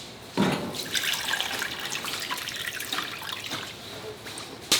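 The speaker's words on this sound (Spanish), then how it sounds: "Lo cubrimos con agua y lo vamos a poner al fuego." Water pours from a tap into a cooking pot to cover the meat for guatita, a steady splashing stream running for several seconds, close and fairly loud, with a brief clatter at the start and end.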